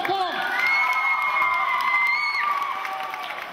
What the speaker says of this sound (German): Ganz, ganz dicken Applaus, komm!